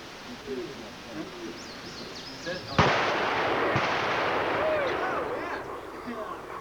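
At a demolition range, an explosive charge goes off with one sharp, loud blast followed by a long rumbling roll and a second smaller bang, with faint voices and birds around it.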